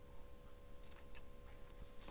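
Scissors cut leftover paper leaves in a few quick, faint snips close by against a quiet background hum.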